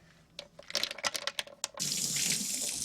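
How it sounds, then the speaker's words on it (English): Kitchen tap water runs steadily into a sink for a quick hand wash, starting after a few short splashes and clatters, then flowing as a loud, even hiss close by. "Okay, quick hand wash,"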